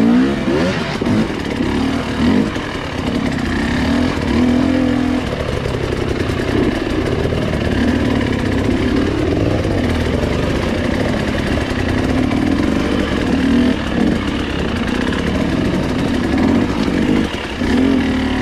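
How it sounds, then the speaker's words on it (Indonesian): Enduro dirt bike engine revving hard in first gear during hard enduro practice, a loud continuous buzzing roar with steady throttle swells close by, no talk. "Gigi satu terus ya, Wan ya."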